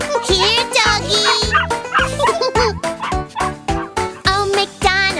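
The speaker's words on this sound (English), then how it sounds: "And on his farm he has a doggy" Cartoon dog barking in a children's farm song, repeated bright woofs and yips in a steady rhythm mixed with sung music, loud and close throughout.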